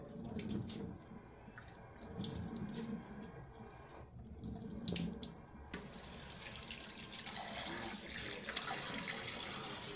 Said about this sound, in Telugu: ఇలా రైస్ని అయితే 3 టైమ్స్ వాష్ చేసుకోవాలన్నమాట